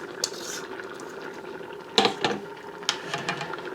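Washed, cooked peas are poured from a container into a cooking pot for Hoppin' John, giving a few short clattering, splashy bursts over quiet kitchen background.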